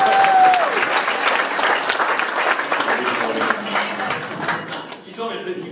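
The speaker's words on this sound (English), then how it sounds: "give them a round of applause." Audience applause at a convention opening ceremony, a dense steady clapping from a large crowd, loud and sustained, with a brief whistle at the start and a few voices near the end.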